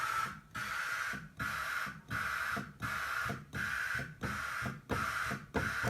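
Noise generator on Yamaha CS-60 synthesizer voice cards, heard as bursts of hiss switched on and off roughly every half second to second, about eight repeated segments with brief gaps, steady and fairly quiet.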